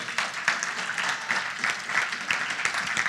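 A church conference congregation claps its hands in praise, a steady, continuous wash of many hands clapping at moderate loudness with little voice above it.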